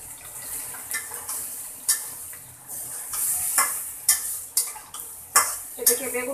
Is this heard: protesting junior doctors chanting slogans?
no